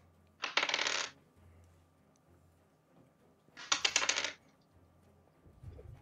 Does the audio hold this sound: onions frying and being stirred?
no